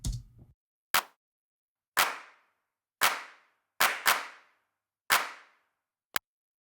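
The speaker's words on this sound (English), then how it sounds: "I use two clap sounds" Two layered claps, the Logic stock drummer's group-style clap and a classic 808 drum-synth clap, play together in a sparse pattern of about eight crisp, punchy hits, some tight and clicky, others fuller with short tails.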